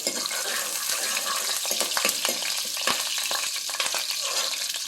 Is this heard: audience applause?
no